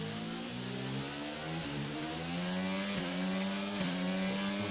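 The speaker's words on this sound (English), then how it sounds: "With a Renault engine in the back." Renault-engined F1 car from F1 23 revving hard, a loud, buzzing high-pitched engine note climbing steadily through gear changes, close and continuous with no talk.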